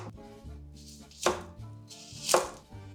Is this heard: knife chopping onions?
yes